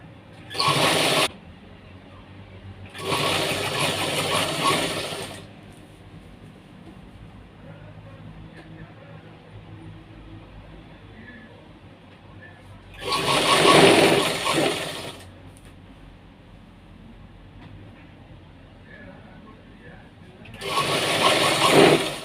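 A sewing machine runs in four short bursts of rapid stitching on a baby dress, separated by pauses.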